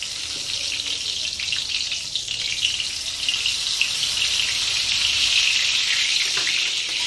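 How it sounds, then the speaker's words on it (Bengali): Cumin seeds crackle and sizzle in hot white oil in a pan, a steady, loud, hissing fry running unbroken throughout with no talking. "দিয়ে দেবো সাদা তেল, দিয়ে দেবো সাদা জিরে ফোড়ন"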